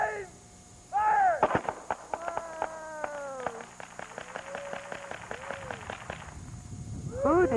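Guns firing on command in a home movie, with a volley of sharp bangs and crackling shots over a few seconds while several voices call out and talk nearby.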